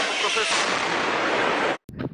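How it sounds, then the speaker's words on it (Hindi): A loud car explosion sound effect, a sustained roaring blast that fills the clip for nearly two seconds, cuts off abruptly, then ends with a brief second burst. "सामने खड़ी गाड़ी में हो गया विस्फोट"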